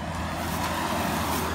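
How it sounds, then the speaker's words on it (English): A single car passes by nearby, a short steady broadband road rumble with no voices. "Oh, another car."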